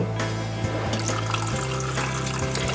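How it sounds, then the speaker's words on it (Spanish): Water pours steadily into a pot of beef bones for a dark beef stock, a continuous splashing gush with shifting tone as the pot fills and no voices. "Y a continuación lo que haremos es mojar con agua."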